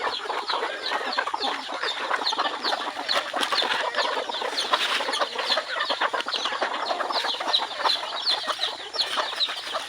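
A mixed-breed native labuyo hen, broody and sitting on eggs, gives a continuous murmur of soft close clucks, with other chickens faintly behind it and no talk.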